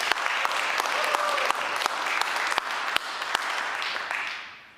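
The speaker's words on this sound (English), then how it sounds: "please give a round of applause" An audience at a Zürich climate hackathon event applauds steadily, a dense and sustained round of clapping with a few louder individual claps. The clapping fades toward the end.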